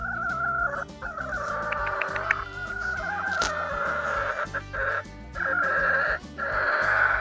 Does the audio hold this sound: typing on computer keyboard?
no